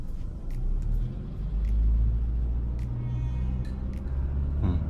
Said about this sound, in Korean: 다시 엑셀 밟아보고